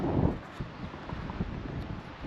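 Wind blows outdoors around a new 2025 Winnebago M-Series travel trailer, a steady rumbling gust buffeting the microphone with low irregular thumps throughout.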